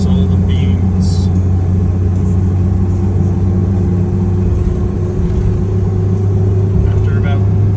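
A 1992 Toyota Hilux pulls away from third gear up a small hill at full throttle, its engine a steady, loud, close rumble that holds on continuously throughout.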